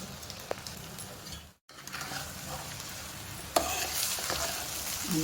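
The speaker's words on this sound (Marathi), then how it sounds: "हे सगळे कांदा मिरची शेंगदाणे हे सगळे त्यामध्ये मिक्स झाले पाहिजेत ना हे सगळे मिक्स करून घेतो" Poha with onion, green chilli and peanuts being stirred in a hot pan, giving a continuous close sizzle with scraping stirring strokes, a brief gap, then louder frying.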